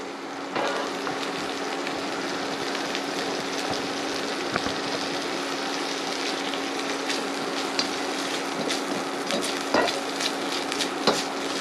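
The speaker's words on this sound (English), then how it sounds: "Just starting to sizzle up now." A bacon burger fries in a hot pan, giving a steady, dense sizzle and crackle that runs the whole time, with small pops and a few light stirring clicks and no talking.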